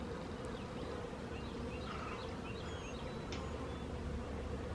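Bees buzz steadily around beehives in a garden, a continuous insect drone with faint bird chirps over it.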